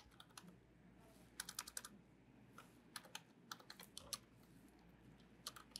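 Typing a message on a computer keyboard, with irregular bursts of quick key clicks over a quiet room hum, loud and close.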